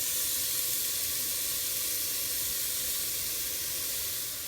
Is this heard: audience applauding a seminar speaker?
no